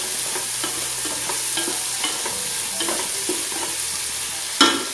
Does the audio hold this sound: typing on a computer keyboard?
no